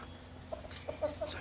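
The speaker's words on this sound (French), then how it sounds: "Mec, il y a des poules géantes." A few soft clucks from very large chickens at a zoo sound nearby over quiet background noise, scattered and brief.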